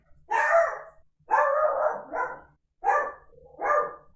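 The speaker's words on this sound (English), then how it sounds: "Sorry about the dog barking." A dachshund barks indoors, four or five sharp, close barks in two bursts separated by short pauses, heard alone.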